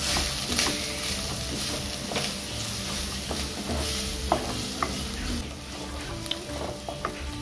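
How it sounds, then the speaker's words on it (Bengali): Masala with cumin, chili and turmeric powder stirred and fried in a pan for a fish curry, a continuous close sizzle with scraping spoon strokes and small clicks against the pan throughout, no talking. "জিরে গুঁড়ো মরিচ গুঁড়ো হলুদ গুঁড়ো দিয়ে আমি ভালোভাবে এটা কষে নেব"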